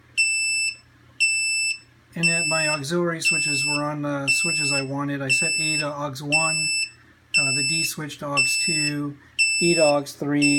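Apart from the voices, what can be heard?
electronic beeping alarm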